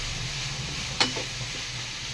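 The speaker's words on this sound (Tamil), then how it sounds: "நல்லா பொன்னிறமாக வதங்கணும்." Onions sizzle as they fry until golden for an egg gravy, a soft continuous hiss under a faint low hum. A single brief clink of a spoon rises midway.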